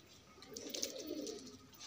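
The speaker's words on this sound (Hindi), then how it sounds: "बाकी ये सारे कबूतर अपने घूम रहे हैं" Pigeons cooing in a backyard loft where the birds roam and peck at grain, giving soft, low, repeated coos at moderate distance with no talking over them.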